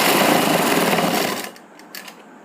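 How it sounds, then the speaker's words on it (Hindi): Sewing machine running a steady stitch on salwar fabric, a loud, close whirring that stops abruptly midway, followed by a few faint clicks and handling noises. "फिर थोड़ी दूरी तक प्लेन सिलाई करेंगे"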